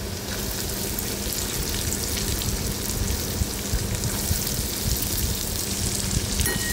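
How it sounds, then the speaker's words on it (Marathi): Finely chopped onion fries in oil for a green beans dish, giving a dense, even sizzle that holds steady and close throughout, with faint crackles and no voices. "आता याच्यामध्ये बारीक कट केलेला कांदा घालूया।"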